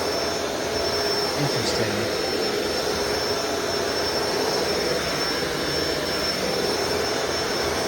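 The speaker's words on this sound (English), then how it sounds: "if you flip this up, it makes the power head spin faster" A Shark Rotator DuoClean Powered Lift Away vacuum runs with its power head switched to spin faster, giving a steady, loud, whining roar throughout, while a person briefly speaks over it.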